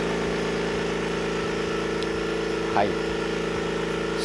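A DEEN.J DNJVSAC39 vertical air compressor, a quiet model, runs with a steady, even motor hum throughout, while someone briefly speaks over it.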